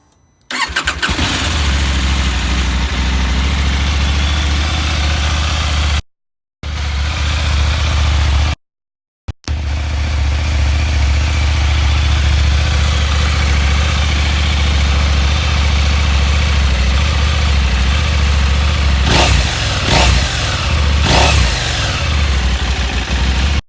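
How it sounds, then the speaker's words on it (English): A cold KTM 790 Adventure R with a Sharon exhaust starts up and settles into a loud, deep, steady idle close by. Brief gaps near the start precede a few sharper blips toward the end. "here's the audio clip of the bike is cold"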